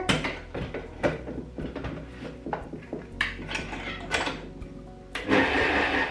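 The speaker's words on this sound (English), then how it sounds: "today we're going to use our good old trusty Kenwood mixer to mix this up" A Kenwood stand mixer whisking Yorkshire pudding batter made with strong white bread flour, with a steady motor whir under repeated clanking and tapping of the whisk against the metal bowl, close and moderately loud, with no talking.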